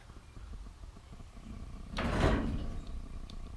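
Lockable drawer on a workbench shelf inside a 2014 Ford E150 Econoline cargo van slides open, a single broad rushing scrape around the middle of the clip over low rumbling room noise.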